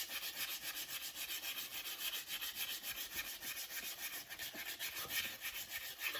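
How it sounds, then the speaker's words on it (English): Fast, steady scratching strokes of 220 grit sandpaper on the heel edge of a cowboy boot, close and even in rhythm; no speech. "sand it down with the 220 grit sandpaper"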